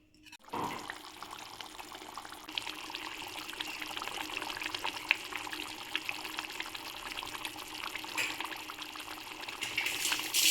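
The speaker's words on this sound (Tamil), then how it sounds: "நான் ஒரு கால் டம்ளர் தேங்காய் பால் எடுத்து இதுக்குள்ளே ஊற்றிட்டேன்" Coconut milk poured into a simmering tamarind curry with small bitter eggplants, heard as a soft, steady liquid pour and bubbling that continues evenly for several seconds, fairly faint and with no talk.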